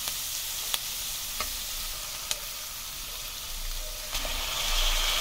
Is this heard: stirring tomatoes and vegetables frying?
yes